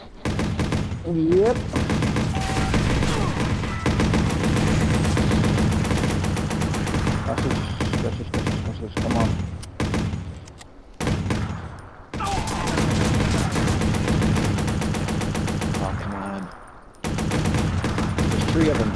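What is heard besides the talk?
gunshots in Watch Dogs video game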